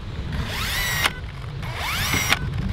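A power drill whines in two rising bursts against car bodywork, each ending with a short grinding catch, close and loud against a steady low hum.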